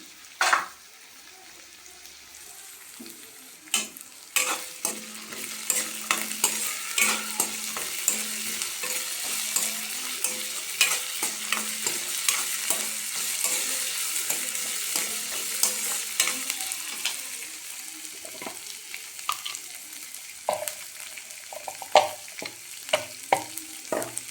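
Potatoes being stir-fried with frozen peas in a pan, a steady close sizzle broken by repeated scraping and clinking stirring strokes, growing busier through the middle and ending in a few sharp knocks.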